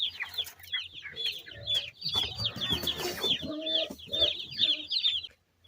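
Broiler chickens on a Jamaican farm cluck and peep busily at feeding time, a dense flurry of overlapping high chirps and clucks, close and continuous, with some scuffling among them.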